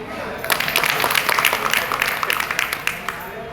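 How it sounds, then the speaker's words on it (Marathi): Applause for a guest at a political meeting in Washim: a crowd claps steadily at moderate loudness for several seconds, dense overlapping hand claps with faint voices mixed in. "तुमच्यासाठी एकदा टाळ्या होऊ द्या"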